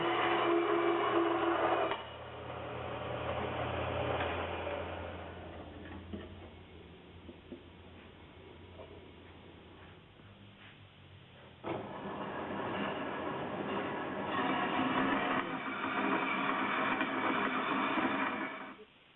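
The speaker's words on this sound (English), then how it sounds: "This is just a big cut-off bandsaw." Large cut-off bandsaw slicing through steel stock clamped in a vise, for spring perches on an 1888 Benz Patent Motorwagen replica; a steady mechanical hum and grind, louder at the start and again in the final seconds, with no talking.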